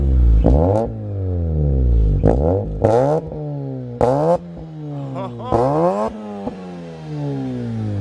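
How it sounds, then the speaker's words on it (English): Mazda RX-8 R3 rotary engine revving hard, a series of loud, close blips climbing sharply in pitch and falling back between each rev, several quick pulls in a row with no talking. "Give me a rev, Christian."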